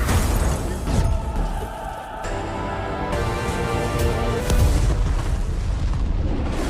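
A film explosion at a house, with deep booming blasts and rumbling low end followed by sustained roaring debris and echoing reverberation that swells again midway.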